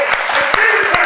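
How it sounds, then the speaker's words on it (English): An audience claps and applauds in a loud, dense wash of sound with individual sharp claps standing out, over a steady background noise. "Let's start clapping right now."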